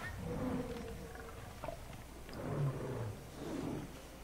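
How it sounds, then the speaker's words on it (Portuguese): A saber-toothed tiger roars in the game Far Cry Primal, a few low, rumbling growls that swell and fade over several seconds, heard alone at moderate volume with no talking. "eu tô ouvindo o barulho do leão, mano. Do leão não, aquele tigre dente de sabre"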